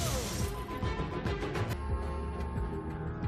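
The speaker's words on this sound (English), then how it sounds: "he shatters a glass light" A glass light globe is smashed in an angry outburst, a loud close crash of shattering glass followed by scattered tinkling and clattering shards with a lingering ring.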